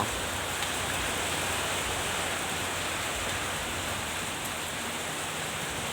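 Steady, fairly heavy rain falling in November, a dense continuous hiss that stays even and unbroken throughout with no voices.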